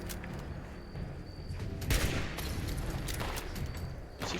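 Gunshots crack at the player in Fallout 76, a scattered burst of sharp reports with a louder close shot near the middle and further pops after, fairly faint overall.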